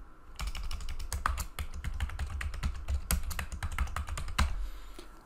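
Rapid, irregular keystrokes on a computer keyboard, close and clear, as a password is typed in during Unity Android development setup, with short pauses between bursts and no talking.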